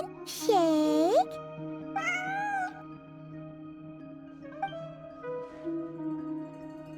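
Ashru the cat meows in Genshin Impact, two clear close meows followed by softer chirpy mews over a quiet background hum.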